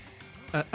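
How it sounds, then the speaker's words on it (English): In Danganronpa 2, a wall clock's alarm rings in two short, bright bursts near the end, following a quieter stretch with faint voices. "The wall clock just started ringing."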